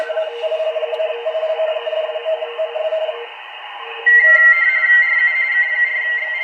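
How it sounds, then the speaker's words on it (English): Digital data signals received on the lower 40-meter shortwave amateur band through a Malachite SDR receiver: steady warbling multi-tone bursts with a continuous carrier, shifting to a louder, higher tone partway through, with no talking. "Got a little digital traffic going on here on the lower part of 40 meters."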